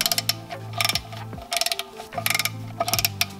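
Quick ratchet clicks tighten the clutch pressure plate bolts on a Honda Civic Si, coming in several short close bursts with brief pauses between strokes and no talking.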